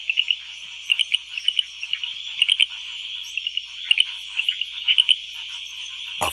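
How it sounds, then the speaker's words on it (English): Frogs giving mating calls at night in a tropical forest, a steady chorus of rapid repeated chirps and chuckling notes in irregular bursts, fairly close and clear with no talk. "The frogs' mating songs also court danger."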